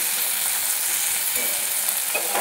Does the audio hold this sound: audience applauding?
no